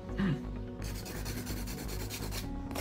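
Steady close rubbing rasp of a 100-grit hand file working over acrylic nail, continuous strokes with no talking.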